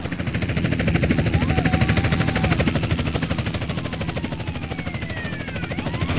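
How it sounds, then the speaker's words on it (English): Police helicopter in the game GTA San Andreas, a loud steady rotor chop throbbing continuously throughout with faint high whines drifting above it. "This is helicopter support."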